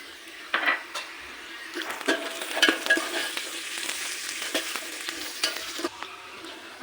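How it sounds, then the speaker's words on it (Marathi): Peanuts fry in a pan for Maharashtrian masale bhat, a close sizzle under busy scraping and clattering as a utensil stirs them against the metal. "आता आपण याच्यामध्ये शेंगदाणे घालून घेऊया थोडे."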